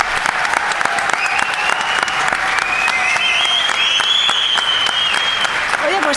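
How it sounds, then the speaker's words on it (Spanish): Lively audience applause at a talk, dense continuous clapping with sharp individual claps standing out, joined by whistles and cheering voices rising above it. "les voy a pedir un aplauso"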